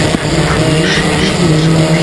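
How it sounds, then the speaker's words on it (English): A historic Formula Ford race car at Thruxton in 2015 brakes late and locks its tyres, a loud engine drone with a steady tyre squeal close by. "He brakes late. He locks up once again."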